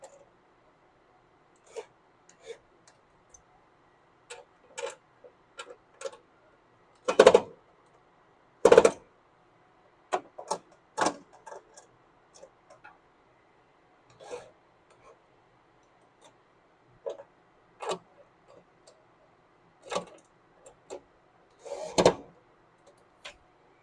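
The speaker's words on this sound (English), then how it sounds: "tighten each one of these screws again" Screws are tightened on a Hatco IRC-4 unit. Scattered sharp clicks and ticks come at irregular intervals over near silence, with a few louder knocks.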